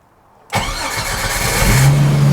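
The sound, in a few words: Jeep engine cranking and starting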